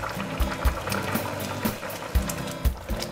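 A reduced tamarind mixture with chilies and groundnuts bubbles in a pot, thick low plops and bursts at irregular intervals over a steady simmering hiss, close up with no talk.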